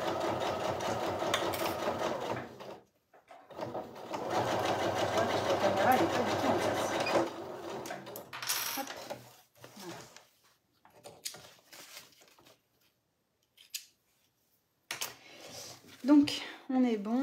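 A sewing machine stitches a holding seam along a fabric bum bag, its whirring motor running in a long burst before stopping, after which a person speaks in short phrases with brief quiet gaps.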